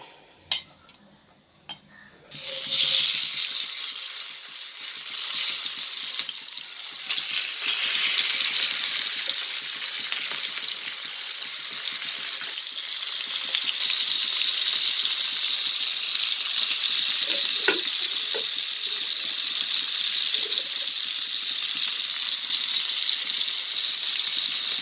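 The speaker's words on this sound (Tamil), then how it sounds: "அந்த மீன் ரோஸ்ட் பண்ணும்போது எண்ணெய் மட்டும் கூட கொஞ்சம் ஊற்றுறது." Fish roasting in oil in a heavy, thick-bottomed iron pan, a steady bright sizzle that starts abruptly after a few quiet seconds and continues loud and even, with occasional small clinks.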